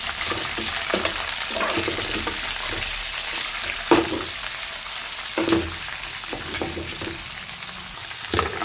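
Chopped capsicum sizzles and fries in a hot pan for quick South Indian style lemon rice, a continuous crackling hiss broken by occasional spatula scrapes and stirring knocks.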